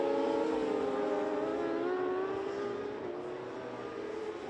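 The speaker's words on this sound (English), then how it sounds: "Johnson is backing off because Hamburg really, really is riding really, really hard." Open 600 class racing motorcycles speed along the Imatra road-racing track, their engines producing a loud, sustained, high-pitched whine that shifts gradually in pitch, with no speech heard.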